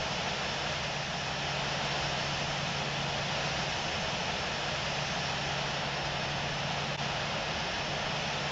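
An aircraft's engine in the Infinite Flight simulator drones in a loud, steady jet roar with a constant low hum, continuous and unbroken for several seconds with no voices.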